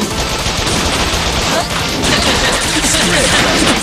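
Rapid machine gun fire in the video game Bot Vice, a dense, loud, continuous fusillade of shots with crashing impacts mixed in.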